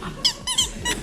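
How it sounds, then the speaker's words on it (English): A chair on a television talk show set squeaks in three short, high, whiny creaks in quick succession, close and fairly loud. "Got a bit of a squeakage."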